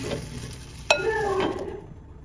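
Pancake batter cooks in a hot pan with a soft steady sizzle, and a sharp clink of utensil against the pan partway through, close by with no talking.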